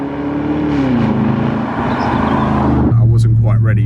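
A Jaguar XJR575 engine drones loudly at close range with steady low harmonics that drop in pitch as if shifting down, then settles into a deeper, constant tone while someone talks over it.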